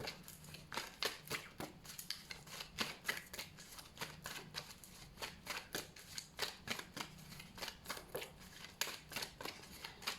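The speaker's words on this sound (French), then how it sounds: "on va laisser tomber les cartes" Tarot cards are shuffled at length close by in quiet, even, rapid ticking riffles, a soft steady patter of card edges with faint room hum beneath and no talking.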